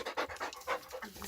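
Day-old beagle and chocolate ticked coonhound mother dog panting close up, a quick rhythmic run of breathy huffs, loud and steady with no talking.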